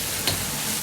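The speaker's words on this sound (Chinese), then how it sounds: "煎至定型出香味，表面稍微发黄，然后再用勺子推散，稍微翻动几下。" Shrimp and tofu fry in a pan, giving a steady, close hiss of sizzling with one brief tap partway through.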